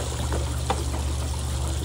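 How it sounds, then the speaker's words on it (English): Water runs steadily down a children's museum water play table, a continuous close pour and trickle with no voices over it. "The water goes on down here so I can fly."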